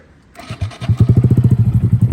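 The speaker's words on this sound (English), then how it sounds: "Here, I'll start the bike up for you guys so you guys can hear it." A 2022 Honda Grom motorcycle engine cranks and catches, then settles into a loud, rapid, thumping idle up close.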